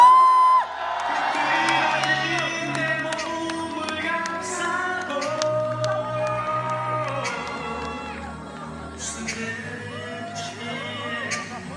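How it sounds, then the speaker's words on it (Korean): Kindergarten audience at a children's show cheering and shouting, a loud mix of whoops and young voices over background chatter that lasts the whole stretch. "이럴 때 함성 주시는 겁니다"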